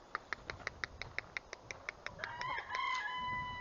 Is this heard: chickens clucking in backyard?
yes